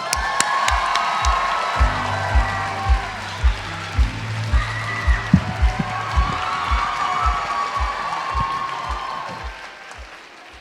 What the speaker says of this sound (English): I thought you were excited cheering for me